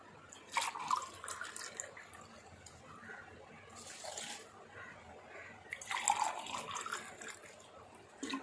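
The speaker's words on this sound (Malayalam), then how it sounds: "രണ്ട് ഗ്ലാസ് വെള്ളം കൂടെ അങ്ങ് ഒഴിച്ചു കൊടുക്കാം" Water poured into a mixer jar while making cucumber juice, a soft trickling and splashing heard close up, rising in two brief louder bursts over a steady low background with no talk.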